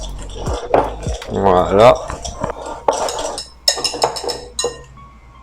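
A whisk beats sugar into egg yolks in a bowl, giving a run of close, clattering metallic clinks and scrapes against the bowl, with a voice speaking briefly in between.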